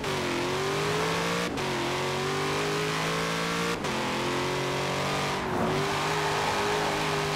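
Corvette C8 in Forza Horizon 4 accelerating hard down a straight, a loud continuous engine note climbing in pitch through several gears with brief dips at each shift, no talking over it.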